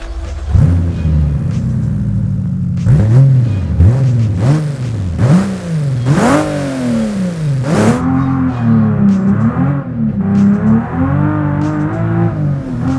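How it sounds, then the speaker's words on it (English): Toyota 2JZ engine in a 200BX car in the BeamNG.drive driving game, with a series of sharp revs rising and falling one after another, loud and close, with no talk. "this is the famous 2JZ engine inside the 200BX"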